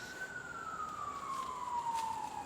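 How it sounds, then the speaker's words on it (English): Emergency siren wailing at a golf course during a final-round tournament, a steady descending tone holding over distant background noise for a few seconds, fairly faint and far off with no talk. "So apparently sirens are coming."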